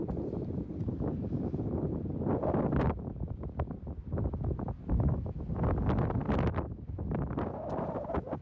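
Gusty wind buffets the microphone in uneven bursts at a mountain trailhead near Jura Creek, east of Canmore in the Rockies, rumbling and rustling loudly with no voices.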